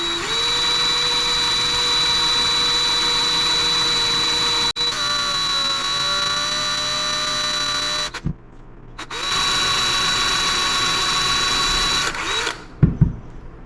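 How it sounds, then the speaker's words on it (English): A power drill bores a hole into a metal cap while working on an old Kawasaki KFX50 quad that has sat unrun for years; the steady close-up whine runs loud, drops briefly and resumes, then stops. "We're just going to drill a hole in this cap."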